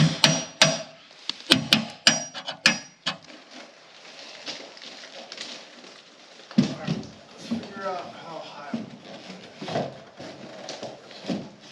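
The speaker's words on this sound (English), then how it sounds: "knock out a couple of these knockouts so that we could fasten this through the side into these studs right here" Sharp metallic knocks punch out the knockouts on an electrical sub panel box, a quick cluster of strikes followed by scattered taps, with a person talking between them.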